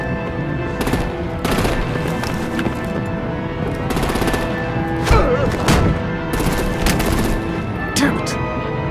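Rapid bursts of automatic gunfire and heavy booms in a Batman: The Enemy Within battle, loud clustered volleys repeating every second or so, mixed with thuds and scattered voices.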